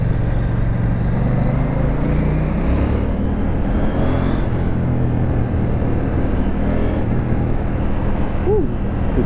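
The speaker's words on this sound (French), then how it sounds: "Prends ce petit retour en échappement là, il est magnifique." A KTM Duke 790 motorcycle engine rumbles loudly and continuously, revving with exhaust pops on the throttle.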